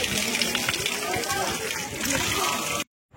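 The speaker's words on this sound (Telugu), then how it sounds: "పైన వచ్చేసి ఒకటే దార, అక్కడి నుంచి స్ప్లిట్ అయిన తర్వాత మొత్తం మనకి 6 దారులుగా వస్తాయి" Close water streams at the Akasha Ganga spring near Simhachalam, where one flow splits into six, gush and splash continuously before cutting off abruptly.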